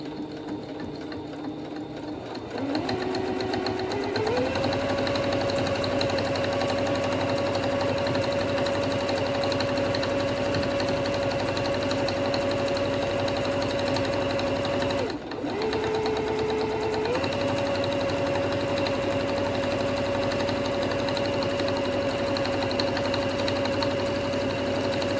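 A Singer One sewing machine stitches on its auto setting with a steady, loud motor whir and rapid needle chatter, briefly dipping in pitch and pausing once midway before resuming.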